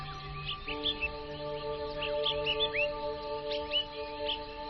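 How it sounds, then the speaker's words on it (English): Small birds chirp and trill in short scattered calls at a distance on a mountain at sunrise, over a faint steady background hum. "all you can hear are the sounds of your own footsteps and the birds chirping in the distance"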